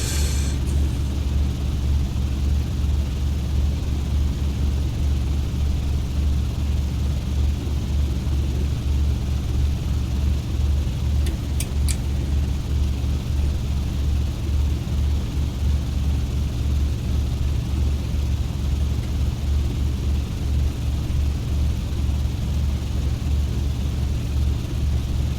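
Hawker Sea Fury propeller aircraft in flight in a flight simulator game, a loud, steady, deep engine drone that continues without a break and with no speech.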